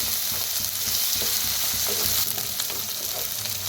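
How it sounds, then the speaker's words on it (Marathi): Chopped coriander roasting in a hot pan alongside other ingredients for a spicy brinjal dish, giving a steady, close, dry sizzle with soft stirring scrapes throughout and no talking. "कोथिंबीर भाजायची याच्या संगच। छान भाजून घेऊया।"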